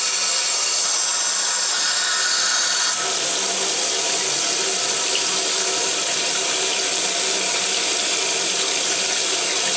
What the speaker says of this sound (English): I'm going to turn my water on, and I'm going to start rinsing it off.